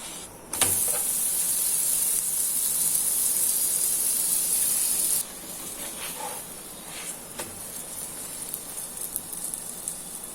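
Butter sizzling on an aloo paratha on a hot griddle, a steady bright hiss that starts abruptly and stays loud for several seconds, then drops to a softer crackle with occasional small pops.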